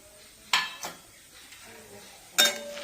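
A spoon clinks against a pan while crushed black cumin is stirred into hot oil infused with guava leaves and curry leaves, with a few sharp taps over a faint background.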